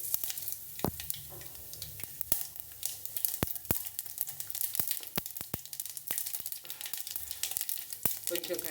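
Chana dal, cumin and mustard seeds sizzle steadily in hot oil, with sharp pops and crackles of the seeds bursting throughout, close and fairly quiet, no talking.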